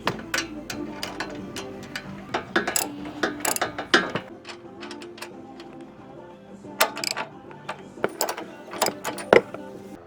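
A hand ratchet tightens bull bar mounting bolts under a 2000-2006 Yukon, Suburban or Tahoe, producing close bursts of rapid clicking separated by short pauses and metallic knocks, with no talking.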